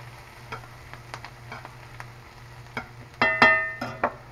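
Homemade no-sodium vegetarian spaghetti sauce simmers in a pan, giving off sparse soft pops and bubbling ticks, with a louder cluster of crackles near the end.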